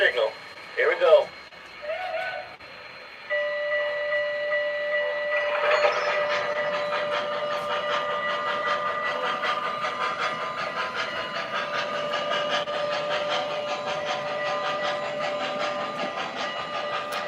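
A Lionel or MTH model train locomotive runs on track after a few short sounds at the start, settling into a sustained mechanical drone with tonal whine and steady rail clatter.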